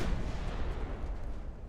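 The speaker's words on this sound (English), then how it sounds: "Our torpedoes blew up." Torpedoes detonating aboard a burning, flooding battleship in Ultimate Admiral: Dreadnoughts, a dense rumbling roar of explosion and fire filling the whole moment at steady loudness.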